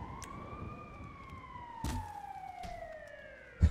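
An ambulance siren in the GTA video game wails in a long, slowly falling tone that stays steady and moderately loud, with a few soft thuds and one sharp knock near the end and no talking.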